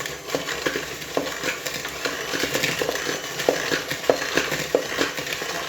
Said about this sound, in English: we'll blitz that up, mix that up nicely so it's nice